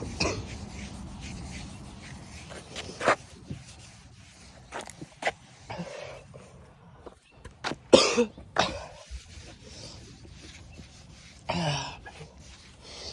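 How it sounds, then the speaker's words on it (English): Someone who is sick coughs several times in short, separate bursts, with throat clearing and quiet rustling in between, during headlight cleaning on a car. "Sorry about the coughing"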